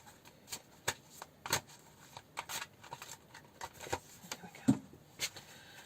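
Tarot cards are shuffled by hand, a soft, quiet run of irregular riffling and snapping flicks up close, with no talk.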